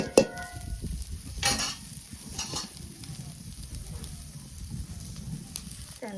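Chopped onion sizzling in oil in a pan in a village kitchen, a soft continuous fry with a few louder stirring scrapes early on, fairly close and quiet, no talking.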